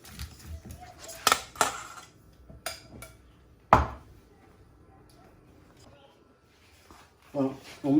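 Salad being tossed and mixed in a bowl, with scattered clinks and taps of utensil against dish, a few sharp knocks standing out over quiet rustling, and a quick rattle of contact near the end.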